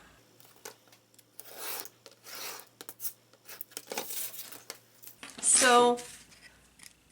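Scissors trimming a piece to size for a Dollar Tree craft basket, a few close, crisp snips and cutting rasps spread over several seconds, with someone speaking briefly.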